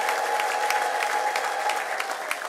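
A church congregation claps together in a steady, even patter of many hands, fairly close and moderately loud. A faint murmur of voices sits beneath the clapping for the whole short stretch.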